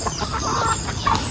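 Chickens cluck close by inside a chicken house on a farm, several short overlapping clucks in quick succession with no speech.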